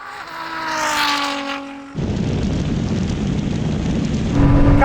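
A Ferrari SF90 and a 1000 hp Nissan GT-R drag racing: one engine revs up in a rising whine, then a loud roaring rush of engine and wind noise takes over as the cars pull hard, with a further climb in revs at the end.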